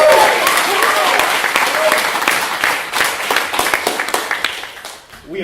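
A conference audience in New York City claps, starting as dense loud applause that thins into scattered individual claps and fades toward the end, with some voices mixed in.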